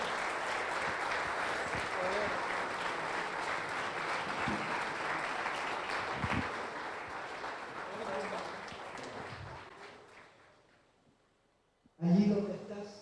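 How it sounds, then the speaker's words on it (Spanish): Sustained church congregation applause, steady and full for about ten seconds, then fading out before a voice briefly starts speaking. "Dele un fuerte aplauso a Jesucristo."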